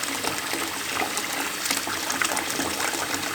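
Bath water runs steadily from a tap onto a fizzing bath bomb in a tub, a dense, continuous rushing splash, close and fairly loud, with no talk.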